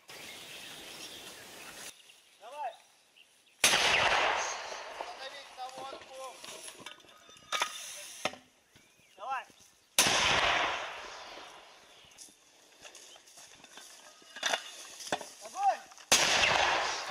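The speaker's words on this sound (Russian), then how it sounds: "Три мины, беглым огонь." Army mortar rounds fire in a rapid sequence. Several loud, sharp blasts boom nearby, spaced a few seconds apart, each with a rolling tail. Radio-like voices talk in the gaps between shots.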